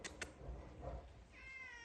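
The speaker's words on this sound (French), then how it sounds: "Qu'est-ce que t'as mon chaton?" A cat meows out in the rain on a rural French farm, two short faint cries over soft background patter, with no voices.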